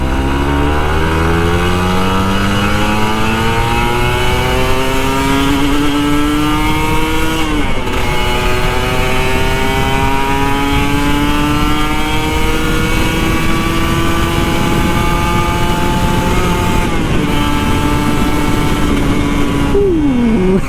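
A Kawasaki Ninja RR 150 motorcycle, ridden in the early morning, revs hard and close, its engine note climbing steadily through the gears with shifts at regular intervals. It stays loud throughout, with no voices.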